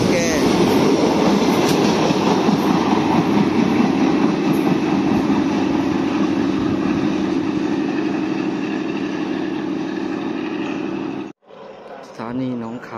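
A freight train passes a station at Nong Kae in Thailand, a loud, sustained rumble with rail clatter and a high whine that runs steadily before cutting off abruptly, with a person speaking afterward.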